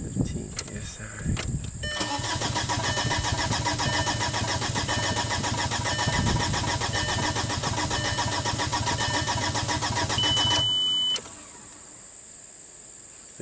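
Rebuilt VW TDI diesel engine cranking on the starter without catching, a loud steady rhythmic churn of about nine seconds after a few brief clicks, then a quieter hum; no voices.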